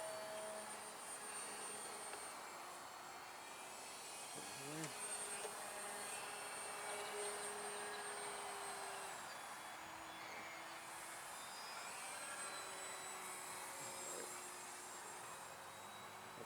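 An R/C Depron Eindecker-style park flyer doing aerobatics, its electric motor giving a steady, thin buzzing whine that rises and falls in pitch through rolls, faint and at a distance, with a voice speaking now and then over it.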